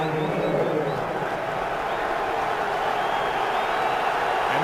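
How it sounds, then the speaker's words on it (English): Football stadium crowd at a Giants playoff game against the Falcons, a steady broad roar of many voices filling the whole stretch, loud and distant. "And now the crowd climbs in"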